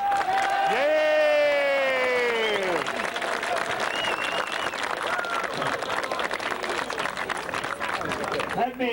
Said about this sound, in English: Please give a great round of applause to an important senator, Senator Don Regal.